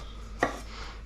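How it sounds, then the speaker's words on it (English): A single sharp knife chop through tomato chunks on a cutting board, one brief crisp impact in a quiet home kitchen while cooking Chinese scrambled eggs with tomato. "Cut into chunks."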